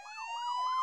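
A loud, close siren wails in rapid rising and falling sweeps, a brief burst of an ambulance siren in an Upin & Ipin cartoon episode, with no talking.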